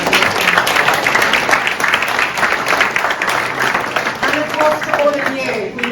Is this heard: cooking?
no